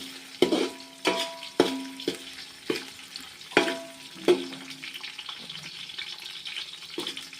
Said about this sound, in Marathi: बटाटा आता फ्राय करतोय.